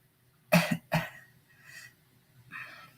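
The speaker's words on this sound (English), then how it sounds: "I feel like I have to cough." Two quick, close coughs, followed by soft breathy throat sounds and a faint rasping exhale in an otherwise quiet room.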